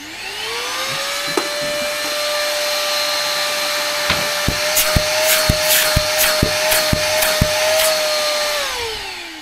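A vacuum cleaner plugged into a Bluetti AC70 solar generator, revving up to a loud steady whine, with a series of sharp knocks over the motor before it winds down.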